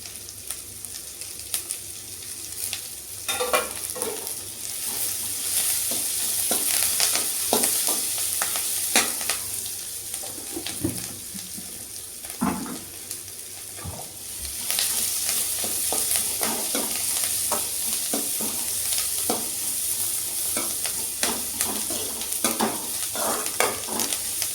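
Onions with curry leaves and coriander frying in a pan, a steady loud sizzle throughout with repeated scraping and tapping as a spoon stirs them, close and continuous.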